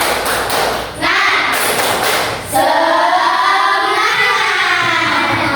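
A school class claps the rhythmic 'tepuk semangat' together, loud and close, in bursts of clapping broken by short pauses, with children's voices joining in.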